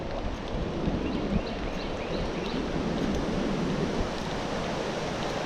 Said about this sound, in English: wind's starting to blow now